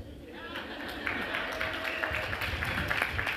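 Audience at a ribbon cutting at an East Boston port site, steady clapping building in after a moment and continuing with a murmur of voices, moderately loud and even.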